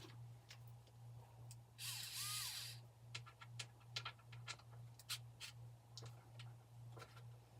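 A power drill whirs in one short burst, driving in while making a holiday tray, followed by scattered clicks and taps over a steady low hum; fairly quiet and close.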